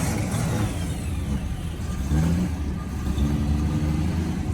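A Ford Mustang engine revs and pulls away at a classic car meet in Vincennes, a mid-pitched rumble rising in two throttle surges over steady background engine noise.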